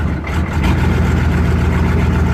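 A junk 267 small-block engine in a rat rod mud truck revs steadily, a loud, close, continuous low-pitched rumble that rises slightly partway through.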